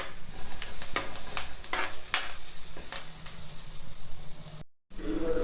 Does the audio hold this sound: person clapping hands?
no